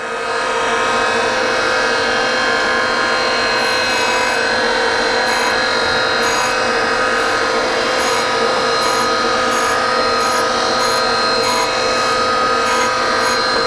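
A surface grinder making a finish cut on hardened race car bolts, a loud, continuous, steady grinding whir with a bright rasping edge, close by and without talking.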